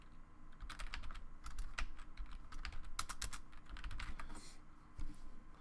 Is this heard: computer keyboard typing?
yes